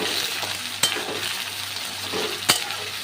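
Onion, garlic, ginger and tomato sautéing for chicken kosha, a steady close sizzle with stirring, punctuated by two sharp clacks of a spoon against the pan.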